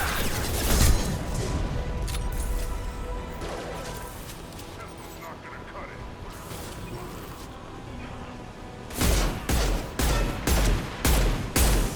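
Gunfire in Mass Effect Legendary Edition: a sustained stretch of mixed weapon fire and combat noise, then a final burst of sharp, loud, rhythmic shots, with a voice talking briefly over it.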